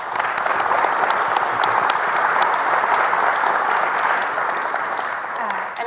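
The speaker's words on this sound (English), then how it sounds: "Let's give you another round of applause." Sustained applause from an audience at a public conversation event with an ambassador, dense and steady throughout at fairly close range, with no clear speech over it.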